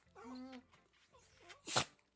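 Dogs indoors give a drawn-out whine that rises and falls, then one sharp, loud sneeze near the end, close to the listener with no talking over it.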